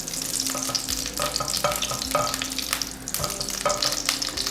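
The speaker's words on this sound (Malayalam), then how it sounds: "അപ്പൊ ഞങ്ങൾ ആദ്യം മറ്റേ ഗാർണിഷിങ്ങിനുള്ള സാധനങ്ങളൊക്കെ ഒന്ന് വറുത്ത് കോരുവാണേ" Coconut pieces frying for a payasam garnish, a steady bright sizzle of hot oil with rhythmic stirring scrapes roughly every half second, close and fairly loud, with no talking.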